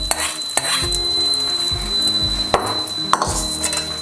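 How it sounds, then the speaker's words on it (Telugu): Spices for coconut chutney tempering crackle and sizzle steadily in hot oil, with a few sharp pops and occasional stirring knocks against the pan. "ఇప్పుడు పోపు వేసేసుకుందాము పచ్చళ్ళకి చట్నీలోకి పోపు పెట్టేసుకుందాము"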